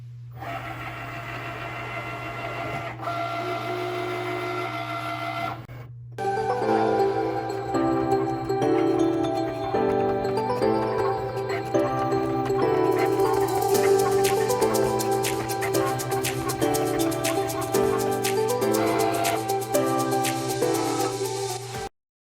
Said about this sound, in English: we're just gonna click on the little Cricut logo, and it will start making